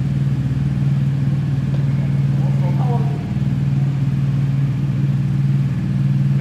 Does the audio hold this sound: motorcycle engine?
yes